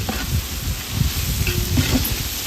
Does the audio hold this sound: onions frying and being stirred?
yes